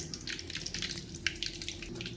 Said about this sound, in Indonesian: kalau sudah panas, langsung aja kita goreng. Saya goreng di api sedang aja ya.